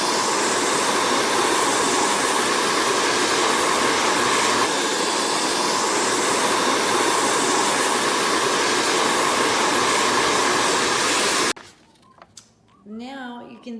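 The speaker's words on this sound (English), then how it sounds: "now I'm going to heat it with the blow dryer." A blow dryer heats lemon-juice writing on paper, a loud steady broadband whoosh running continuously for about eleven seconds before cutting off abruptly, followed by a brief quiet voice.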